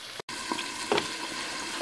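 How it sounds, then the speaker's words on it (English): Half a pound of bacon frying in a covered pan, a dense continuous sizzle with small pops and crackles, heard close and alone. "This bacon is going to take forever to cook."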